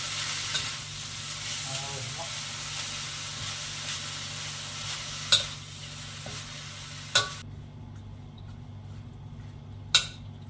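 Spinach greens fry in a pan with a steady soft sizzle while a spoon stirs them, scraping and clinking sharply against the pan a few times near the end.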